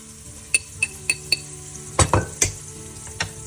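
Onions that have fried until glassy sizzle steadily in a pan as chili powder is stirred in for a Sri Lankan fish curry, with a metal spoon clinking sharply against the pan several times in an uneven rhythm.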